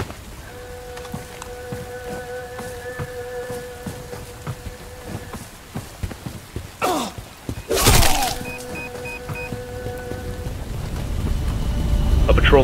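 Rain and rolling thunder in the video game Bright Memory Infinite: a constant rain hiss sits under tonal game music, broken by a sharp thunder crack and a loud rumbling burst midway, with the rain swelling louder toward the end.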